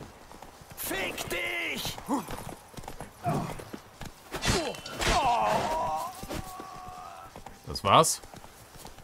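Horse hooves clip-clopping in the video game The Witcher 3, thudding intermittently amid combat sounds while someone talks in German over the game.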